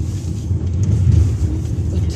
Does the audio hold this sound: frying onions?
no